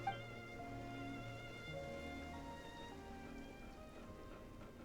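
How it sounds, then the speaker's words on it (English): Rain falls steadily in a fantasy adventure video game, a soft constant patter heard alone, layered with sustained musical tones and no speech. "So we just stood out in the rain."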